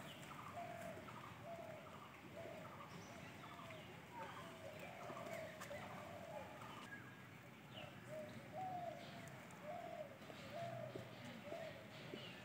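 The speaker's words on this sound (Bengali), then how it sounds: "Silver pheasant." Faint, repeated soft cooing calls from a silver pheasant enclosure at Bardhaman Zoological Park, with a steady outdoor hiss and some distant chirps in the background.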